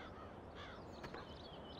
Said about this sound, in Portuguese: Ó os passarinhos, moçada. Tem até um corvo ao fundo, ó.